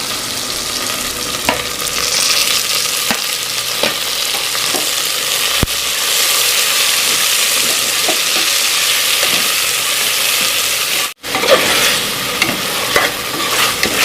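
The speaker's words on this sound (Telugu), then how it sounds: "అల్లం పేస్ట్ బాగా వేయించిన టమాటాలు వేస్తాను" Ginger paste and tomatoes fry in a pan for a country chicken curry, a loud, continuous sizzle punctuated by scraping stirs, with one brief cut near the end before the sizzling resumes.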